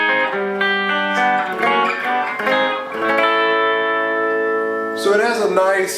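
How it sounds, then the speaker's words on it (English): An electric guitar played through a mini reverb pedal with modulation, ToneCity or Mooer, with sustained chords and single notes ringing out in a lush, shimmering wash, loud and close, with a brief bend near the end. "I think we're talking about a reverb with some modulation, then there may be a pre-delay."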